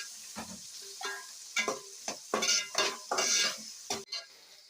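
Curry leaves fry in hot oil in a pan while a utensil stirs them, giving a string of scraping, clinking strokes over a soft sizzle, close and fairly quiet, with no talking.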